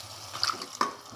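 A short splash of water poured into a pan of masala with tomato paste, running and pouring, with a couple of bright sloshing bursts, close and fairly soft.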